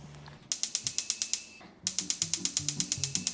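A kitchen stove burner igniter clicks rapidly without lighting, two runs of sharp, evenly spaced ticks separated by a short pause, close and clear.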